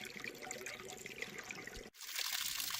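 Water draining from a garbage can through a wide-open garden hose, a steady close trickling and gurgling rush that briefly drops out and then resumes louder and hissier.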